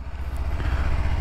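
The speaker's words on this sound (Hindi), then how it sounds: "मैं अपने बाइक को कोल स्टार्ट करते हुए" A Kawasaki Ninja 300 motorcycle idles right after a cold start early in the morning, a close, loud, low throbbing engine note with no talk.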